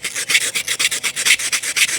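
Coarse sandpaper rubbed back and forth over a part in quick, even strokes, each pass a loud, close rasping scrape, about a dozen in steady rhythm with no voices.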